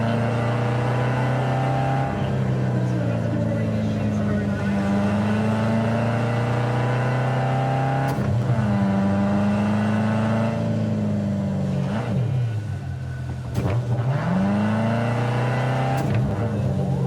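A sports car engine in the video game Cyberpunk 2077 revs and drones steadily, with pitch rising and dropping through several gear shifts, loud and close, no voices.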